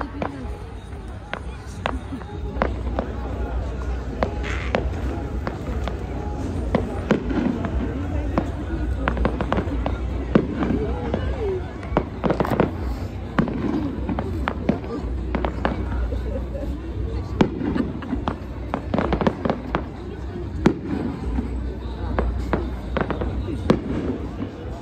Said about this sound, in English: Wonderful fireworks.